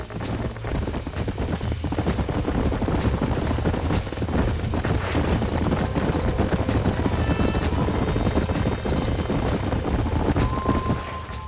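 Horses trotting in Red Dead Redemption, a dense, steady clatter of hooves mixed with constant rumbling ambience, loud and continuous with no voices.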